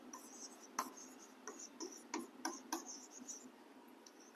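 Chalk or marker taps and scratches on a board during a lecture on chromosomal mutation. The strokes are short and faint, coming in irregular bursts against a quiet room, with no voice over them.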